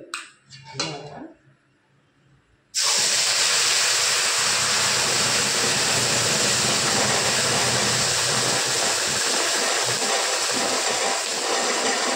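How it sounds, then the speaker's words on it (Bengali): Taro (kochu) pieces dropped into hot oil in a wok: after a couple of quiet seconds, a sudden loud, dense frying roar starts and stays constant and close to the end. "এখানে কড়াইতে তেল বসিয়েছি, তেলটা গরম হচ্ছে। এখন আমি কচুগুলো দেব।"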